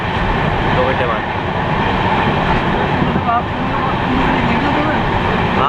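A long-distance passenger train on the Bhusawal to Bengaluru route via Pune runs steadily, heard from inside as a loud, continuous rumble and rattle, with voices talking over it.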